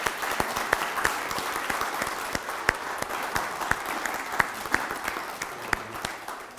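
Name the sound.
applause for election candidates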